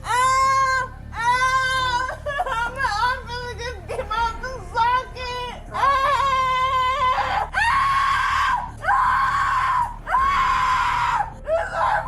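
A woman being carried by police officers screams in repeated long, shrill bursts, each lasting about a second, with short gasping breaks between them, loud and close throughout.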